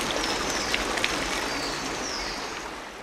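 Sacred water flowing steadily at the Ollantaytambo stone bath in Peru, a continuous close trickle and splash with no pauses, carrying on alone without talk.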